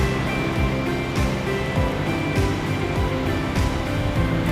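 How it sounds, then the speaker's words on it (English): Steady rushing water from an open tap at an Israeli seawater desalination plant, a loud, continuous wash with low rumbling pulses and no talk over it. "This tap is always open to check at every instant the quality of the water that Israelis will drink."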